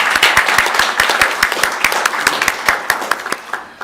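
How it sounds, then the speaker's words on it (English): Audience applause at a sister city announcement ceremony, a dense run of claps from a modest crowd that gradually thins and fades out. "I just want to give them a round of applause because they're amazing."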